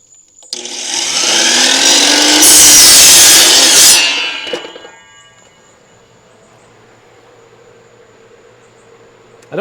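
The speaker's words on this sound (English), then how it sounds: "Okay, I'm going to do the miter saw again" A miter saw runs on power from a BLUETTI AC200MAX portable power station, spinning up loud and steady through a cut for about three seconds, then winding down into a long, quiet, faintly humming tail.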